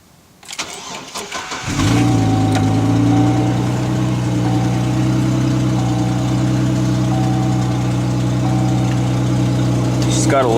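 A 4.2 liter straight-six engine cold starts with a brief cranking whir, then catches and settles into a loud, steady, deep exhaust idle that holds to the end.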